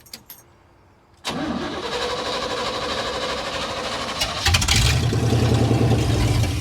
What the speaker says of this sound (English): We got the pump running with a separate battery, and we're going to see if it runs.